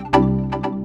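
An init patch on a Roland Jupiter-Xm synthesizer, played as short, bright, buzzy notes: three or four close plucked tones in quick succession over a steady sustained drone, fairly loud and with no voice.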